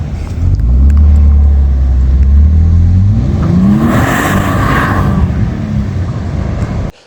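Deep, burbly V8 rumble of a 2025 Toyota Tundra revving, loud and close, with a rising and falling engine note that swells then settles before cutting off abruptly near the end.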